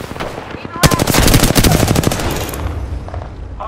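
Video game gunfire crackles in a dense automatic burst for about two seconds and then tapers off into scattered faint pops, with a voice heard briefly near the end.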